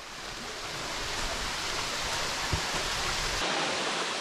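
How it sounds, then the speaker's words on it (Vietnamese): A forest waterfall pours down from above, a steady broadband rush of falling water that is fairly loud and close, with no talking. "Một cái thác nước chảy từ trên kia xuống này."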